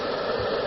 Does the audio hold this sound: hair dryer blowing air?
yes